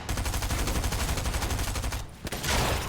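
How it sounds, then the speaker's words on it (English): Heavy shotgun blasts in a video game fire in rapid, even succession, loud and close, then stop briefly before a final burst. "I'm hitting him with a freaking heavy shotgun right now."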